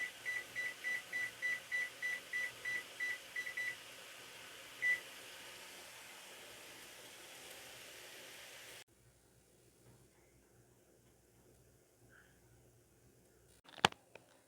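A kitchen timer is set with a rapid run of short, regular electronic beeps, followed by one lone beep, then quiet room noise and a brief clatter near the end.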